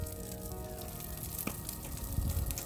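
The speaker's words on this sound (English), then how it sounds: "we have some nice sizzling going on here." Salmon fillet frying on a hot grill after about five minutes of cooking, giving a steady, moderately quiet crackling sizzle with a few sharper pops and a soft scrape near the end.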